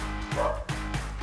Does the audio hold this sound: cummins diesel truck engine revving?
no